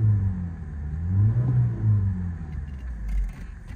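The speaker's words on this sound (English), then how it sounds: "I'll give this car a very quick rev just so you can hear the engine" A 2014 BMW 116i M-Sport 1.6-litre turbo petrol engine revs up in a few quick low rumbling bursts, rising and falling in pitch close by, fairly subdued overall.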